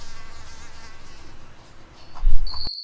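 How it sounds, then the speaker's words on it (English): Mosquitoes buzz in a thin, continuous whine, close and fairly loud, the drone swelling near the end before cutting off abruptly. "Mosquitoes."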